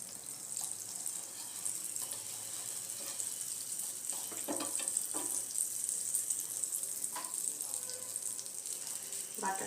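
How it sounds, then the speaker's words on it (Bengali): Bread frying gently in butter on a tawa over a low gas flame, a steady soft sizzle with faint scraping and clicks throughout, fairly quiet and continuous. "এবার এটাকে আমি তাওয়ার মধ্যে বাটারের সাথে একটু ভেজে নেব।"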